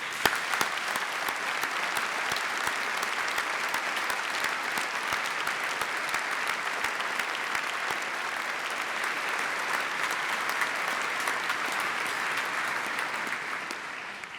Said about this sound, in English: take this opportunity to applaud their achievement